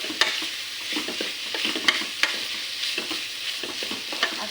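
Chicken hotdog pieces being mixed into sopas in a cooking pot: a soft bubbling sizzle beneath repeated close clacks and scrapes of a spoon against the pot, with no one speaking.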